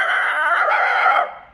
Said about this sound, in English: Toto barked at him bravely